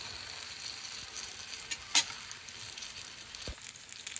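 Turon filled with jackfruit frying in hot oil, a soft steady sizzle with a sharp crackle and a small pop or two, close and fairly quiet with nobody speaking.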